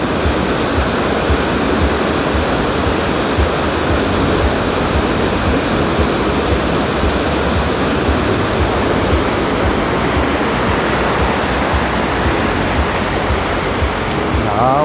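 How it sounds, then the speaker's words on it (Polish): Water rushes steadily and loudly at Loch Katrine in Stirlingshire, a dense unbroken roar that fills the whole stretch with no pauses. "Zobaczcie, jak ta woda daje. O, ostry hałas."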